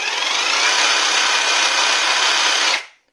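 A Heimerdinger LB291 cordless jigsaw is switched on and runs at a steady, loud buzzing whir for under three seconds, then cuts off sharply and spins down.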